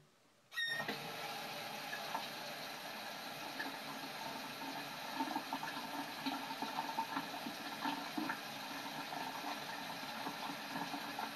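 Water for a white cake batter runs in a steady, continuous stream. It starts abruptly after a short quiet and keeps a constant splashing hiss close to the microphone for about eleven seconds, with no speech.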